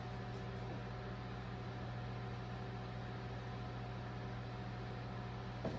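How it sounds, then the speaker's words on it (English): A microwave oven runs steadily while softening cream cheese, giving a constant low mechanical hum with faint fan noise throughout, and a small click near the end. "into the microwave for about 20 seconds"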